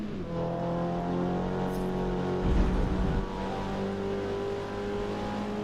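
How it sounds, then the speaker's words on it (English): A racing engine in the video game Forza Motorsport (2023) drones at high revs, steady and close, with a brief surge partway through but never shifting gears. "It's a lot of high revs, but it's like on the verge of shifting, but not quite."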